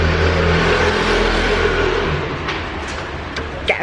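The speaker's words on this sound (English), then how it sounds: "I was waiting for a little bit of traffic noise to go away, but it's a busy street right now" Busy street traffic in Paris near construction work: a loud, steady rumble of passing cars and engines that eases slightly toward the end, with a few faint knocks and clicks.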